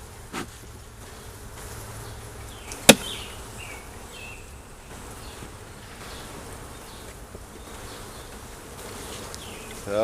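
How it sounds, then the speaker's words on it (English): Honey bees buzz around an opened hive during an inspection, a steady close hum with a sharp click near the start and occasional shifting tones. "there are more bees up here than there were"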